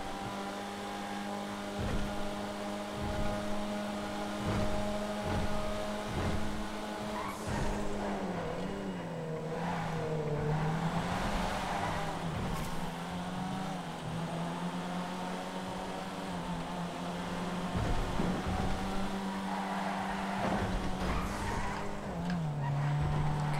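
Pigali sports car in GTA FiveM racing, its engine droning loud and steady with rising and falling revs through gear changes, tires scrubbing and squealing at moments, no voices over it.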